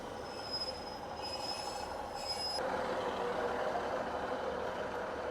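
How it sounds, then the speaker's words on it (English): A train arriving at a station rumbles steadily with a thin, high wheel squeal in the first half, then a broader roar of rolling cars. "just waiting for the train, which is going to come from that direction there."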